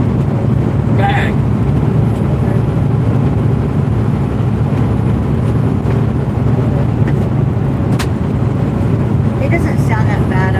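Steady low road rumble fills the cabin of a moving vehicle on a drive to Chicago, constant and loud throughout, with faint occasional clicks and no clear talk.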